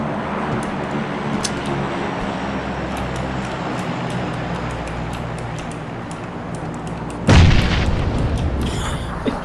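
Grenade explosion in the PUBG battle royale game: a sudden loud boom bursts out near the end, over a steady rumble of background game noise.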